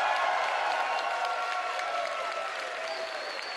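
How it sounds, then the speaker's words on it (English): Audience at a Super Smash Bros. Ultimate Invitational 2018 award ceremony applauds and cheers steadily, a broad sustained crowd wash that fades slightly toward the end. "Please give a big round of applause for MkLeo."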